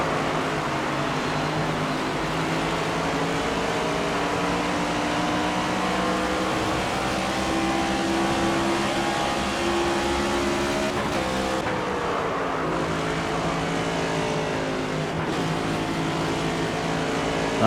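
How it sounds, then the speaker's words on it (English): A NASCAR 25 stock car races at Phoenix in the game, its engine droning loud and continuous with a sustained high whine, then briefly dropping and rising in pitch as it shifts down, with no talk over it. "Not sure why we downshifted."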